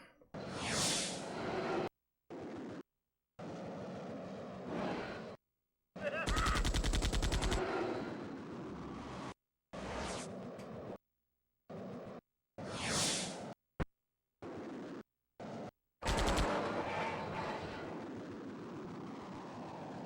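Repeated bursts of gunfire from a PS1 full-motion-video game, loud volleys and sharp shots separated by abrupt silences, with one long sustained burst in the middle and more toward the end.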